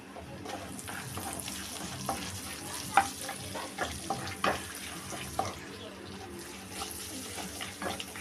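Green chillies frying in oil with cardamom, cinnamon, clove and cumin for paneer butter masala, a low steady sizzle punctuated by sharp spoon clinks and stirring scrapes against the pan, faint and close.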